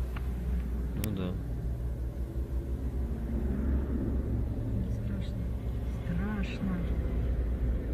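A huge column of Russian military vehicles heading toward Donetsk rumbles past in a steady, loud, continuous engine drone, with voices talking over it throughout.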